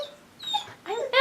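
A dog whimpers in high, thin wavering tones indoors, in several short bursts close by, with faint background sounds in between.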